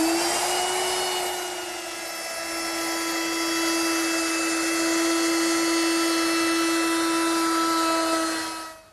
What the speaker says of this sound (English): Now I'll round over the top edge with a 3/8 inch radius rounding over bit.